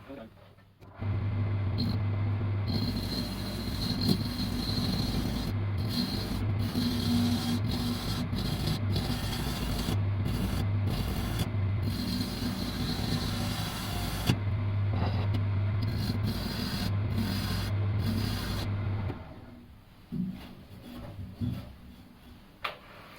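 A wood lathe turns a bowl while a chisel cuts into the wood, a sustained loud whirring hum with scraping and chattering that runs almost unbroken for about eighteen seconds before the machine winds down.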